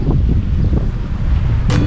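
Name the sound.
wind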